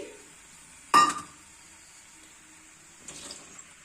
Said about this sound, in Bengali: এবার সব সবজিগুলো ঢেলে দিচ্ছি।